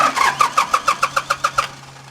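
A truck engine cranks in about ten quick, even pulses, close and loud, then stops without catching.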